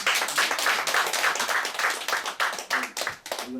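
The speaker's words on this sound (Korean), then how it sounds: "우리 박수로 크게 환영합니다" A church lecture audience claps to welcome a guest speaker, a brisk, close burst of many hands with a loose rhythm that thins out toward the end as a voice briefly comes in.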